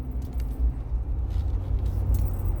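Inside a moving car, a low rumbling road and engine drone fills the cabin, with faint rattles and small knocks over the steady hum.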